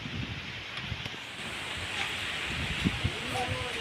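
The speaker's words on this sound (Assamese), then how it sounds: "বা কি বতৰ ধুনীয়া বতাহ আহিছে চাওক গাইছ কেনেকুৱা ধুনীয়া বতাহ" Gusty wind rushes steadily across an open outdoor spot in stormy weather, a broad continuous roar buffeting the microphone with low rumbling bursts and no talk.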